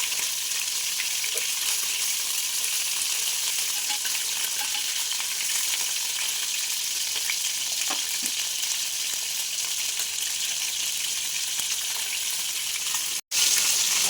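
Fish fries in oil for a spicy fish curry, giving a continuous bright sizzle with small pops, steady throughout before a brief clunk right at the end.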